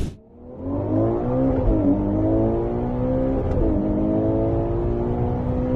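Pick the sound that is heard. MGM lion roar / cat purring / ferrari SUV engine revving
ferrari SUV engine revving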